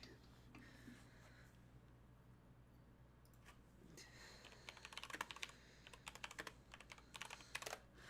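A computer keyboard sitting on the floor is typed on in quick bursts of clicky keystrokes, sparse at first and then denser and louder toward the end, over a low steady room hum.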